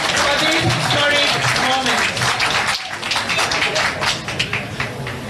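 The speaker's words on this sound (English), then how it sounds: "we cannot get enough of rounds of applauses" Applause at a political event, a crowd clapping beneath a talking voice that carries through most of the clip, with the clapping thinning and turning into scattered taps toward the end.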